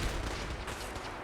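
Minigun fire in Fallout 4, a dense, continuous roar of rapid shots heard close and loud for about a second, with no voices over it.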